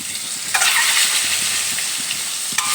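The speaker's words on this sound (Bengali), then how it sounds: "তেল গরম হয়ে গেছে এই তেলের মধ্যেই ভাজার জন্য ডিমগুলো দিয়ে দেব" Eggs dropped into hot oil seasoned with salt and turmeric set off a steady loud sizzle, with sharp crackling bursts as each one hits the pan, close up and without speech.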